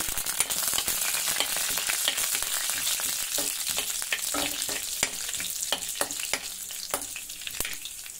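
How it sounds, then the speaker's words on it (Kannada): Mustard seeds, cumin and dal splutter and crackle in hot oil, giving a dense sizzle with frequent sharp pops throughout, close and fairly loud. "ಅರ್ಧ ಸ್ಪೂನ್ ಸಾಸಿವೆ ಅರ್ಧ ಸ್ಪೂನ್ ಜೀರಿಗೆ ಒಂದು ಸ್ಪೂನ್ ಬೇಳೆ ಹಾಕೊಬಿಡೋಣ ಅದು ಚಟಪಟ ಅಂದ ತಕ್ಷಣ"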